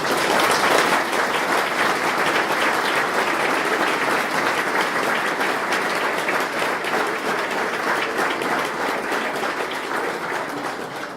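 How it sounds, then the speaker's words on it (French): Sustained, full applause from a large crowd at a town New Year's wishes ceremony in Cesson, a thick, even roar of clapping that holds steady for over ten seconds before easing slightly. "j'aimerais que vous les applaudissiez"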